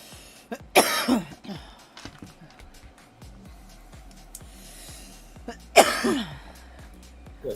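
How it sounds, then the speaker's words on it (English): Two sharp, close coughs several seconds apart, each a harsh hacking burst, with quiet room noise and faint knocks between them. "I was coughing."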